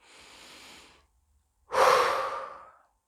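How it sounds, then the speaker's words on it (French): Two slow, deep breaths during a short guided meditation, a soft inhale followed after a pause by a louder, longer exhale, close and alone. "je vais vous demander de prendre quelques bonnes respirations"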